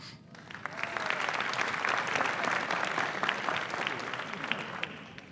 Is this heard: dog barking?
no